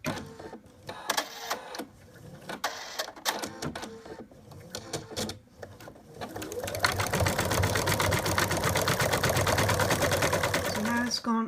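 An in-the-hoop embroidery machine stitching a dog design builds from intermittent clicks into a steady, fast, buzzing needle run as it travels around the whole muzzle, loud and close, with someone talking during the early part.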